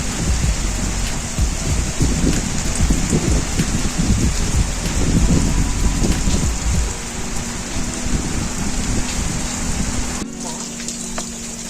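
Heavy rain pours down during a storm in Banaskantha, Gujarat. A dense, steady hiss with low rumbling underneath fills the whole clip, and it eases slightly near the end.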